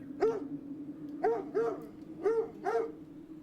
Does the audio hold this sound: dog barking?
yes